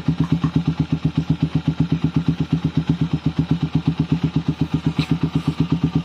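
A motorcycle engine idles close by with a steady, fast, even putter of regular pulses that continues throughout.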